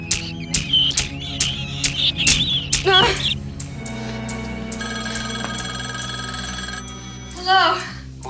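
A telephone rings repeatedly in short regular bursts inside a psychopath thriller film scene, with dramatic music and speech running underneath the rings.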